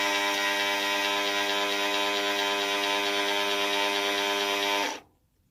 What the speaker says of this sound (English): let it run for a little bit, you know, probably until the motor gets warm to the touch